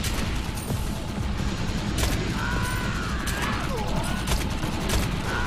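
Shotgun blasts and combat effects from the video game Defiance sound as a dense, continuous barrage of booming gunfire, loud and close throughout.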